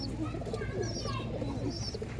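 Pigeons of the Giribaz line cooing steadily at close range, low throaty burbles filling the whole stretch with faint chirps above.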